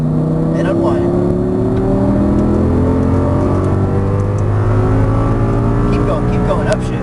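An Audi R8 race car accelerates hard on a Las Vegas exotic racing track, its loud, close engine climbing steadily in pitch throughout. A coaching voice talks over the engine.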